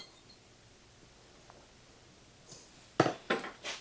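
A utensil clinks against a bowl while flour, brown sugar and butter are mixed for a cinnamon coffee cake: a few sharp, close knocks and scrapes arrive in the last second after near silence.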